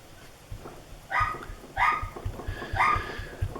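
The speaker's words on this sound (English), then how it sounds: "I have a 12-month-old puppy and she just loves to bark when people go past." A 12-month-old puppy barks repeatedly indoors, a handful of sharp, fairly close yaps spaced about half a second apart, standing out over a quiet room.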